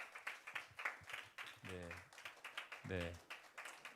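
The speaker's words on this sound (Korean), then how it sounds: "박수 소리가 끊어지질 않는 거 보니까" A church youth-group audience keeps applauding, with dense, steady clapping continuing throughout while someone briefly speaks over it.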